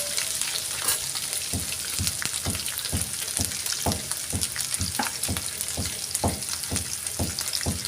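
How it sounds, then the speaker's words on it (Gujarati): Garlic, chili and ginger paste sautéing in a pan for cashew curry, a steady close sizzle broken by repeated, evenly spaced scraping stirs throughout. "મરચાંની પેસ્ટ, આદુની પેસ્ટ અડધી ચમચી નાખશું અને સરખી રીતે સાતળી લઈશું।"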